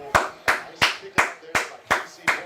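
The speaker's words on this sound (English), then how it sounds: "Clap it up to Devin Neal." Slow, steady hand clapping, about seven crisp claps at an even rhythm, close and distinct.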